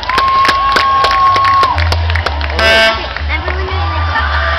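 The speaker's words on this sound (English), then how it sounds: "give him a big round of applause for that effort" A spectator crowd claps, whoops and cheers loudly at a truck tug-of-war pitting a Super Duty pickup against a 6x6 dump truck, with an announcer talking and horn blasts mixed in.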